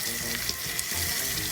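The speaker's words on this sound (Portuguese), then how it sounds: "E vou deixar a cebola fritando um pouquinho" Sliced onion rings frying in melted butter in a pan while camp cooking, giving a steady soft sizzle with faint crackles, close and fairly quiet, with no talking.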